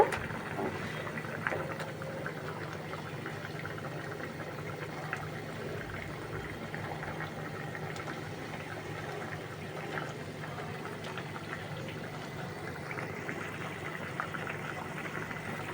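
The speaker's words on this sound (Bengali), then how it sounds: "ঝোল টক বগিয়ে ফুটছে" Fish curry broth with tomato and tilapia heads at a steady rolling boil in a pot, a continuous bubbling hiss with small pops heard close up, moderately quiet and unbroken throughout.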